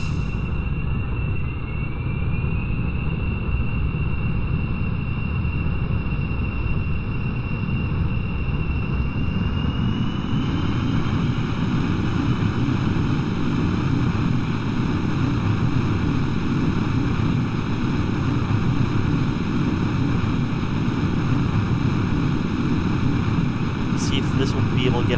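A spacecraft engine runs in Kerbal Space Program with a steady, even roar and low rumble throughout, joined by a thin rising whine early on, with no speech heard.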